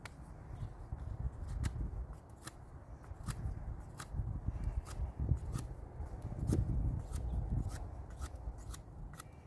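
Scissors snip woven stems of a handmade obelisk plant support, a quick run of sharp, close cuts repeating at an irregular rhythm over a faint rustle of handled stems.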